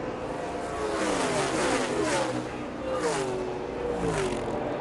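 NASCAR stock cars race at Talladega, their engines roaring and rising in pitch as they accelerate to top speed, a continuous loud drone of several cars together while a commentator talks over it.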